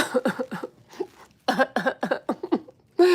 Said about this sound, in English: Almost like I coughed on purpose.